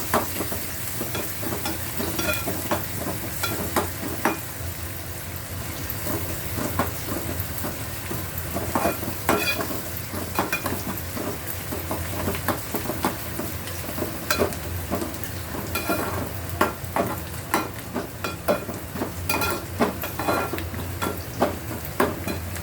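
Tomato frying in a hot pan for a spicy dried shrimp chutney, a steady close sizzle with repeated scraping and clacking of a spoon as it is stirred, no voices.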